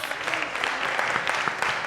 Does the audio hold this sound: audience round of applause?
yes